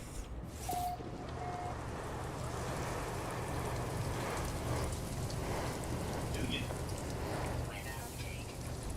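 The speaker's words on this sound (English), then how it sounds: "Weather update. Storm clearing." Steady rain hisses and patters across a stormy alien planet in No Man's Sky, a constant close wash of rainfall with faint brief tones over it and no voices.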